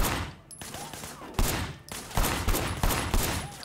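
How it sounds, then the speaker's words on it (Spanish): Gunfire in the video game Sleeping Dogs, sharp bursts of shots cracking out in quick clusters, loud and close with short pauses between volleys. "Disparar sin asomarse es menos preciso."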